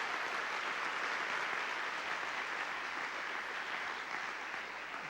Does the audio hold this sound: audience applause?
yes